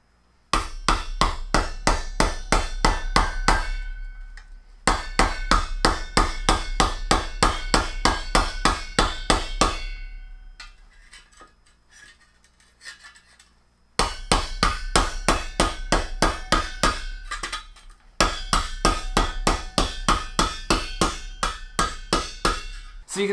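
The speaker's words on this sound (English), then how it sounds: "So the piece of metal and the can are in contact here. So I'm going to be hitting just a tiny fraction ahead of that." A hammer strikes sheet metal held over a can to curve it, landing fast, loud, evenly spaced metallic blows in long bursts separated by brief pauses, close up with no talking.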